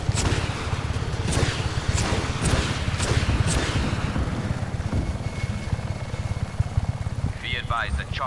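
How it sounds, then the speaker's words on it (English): A helicopter approaches in a video game, its rotor chopping steadily as a low throbbing drone under bursts of game voice dialogue and scattered effects. "Be advised that chopper support is approaching your location."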